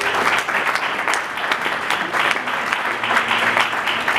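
A church congregation applauds steadily in a loud, close burst of clapping that fills the room throughout, with faint voices mixed in.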